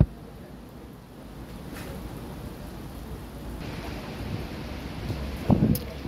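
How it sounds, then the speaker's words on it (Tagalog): Heavy rain at Sai Kung public pier in Hong Kong, a steady moderate hiss of downpour with gusty wind rumble and a brief louder knock near the end. "Kasi ang lakas ng ulan."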